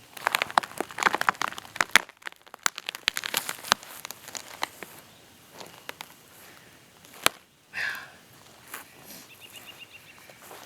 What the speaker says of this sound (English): It is oddly satisfying ripping out these rotted roots from this old tree.